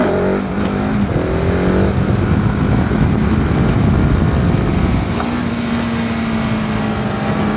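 Stock Euro 5 exhaust of a 2020 KTM 690 SMC R single-cylinder supermoto, a loud, close, continuous engine drone with a short rising rev at the start before settling into a steady hum.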